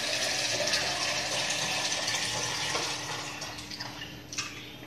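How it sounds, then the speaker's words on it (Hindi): Water poured from a jug into a large cooking pot makes a steady, soft splashing gush that tapers near the end, heard alone with a few faint clinks. "इसमें हमने पानी डालना है 2 जग।"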